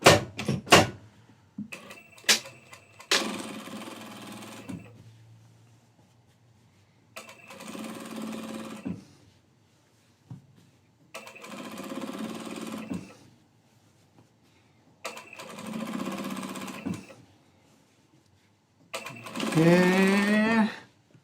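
A sewing machine top stitches a shirt seam made from scraps in four or five bursts of rapid whirring stitching, separated by pauses with faint clicks, close and clear.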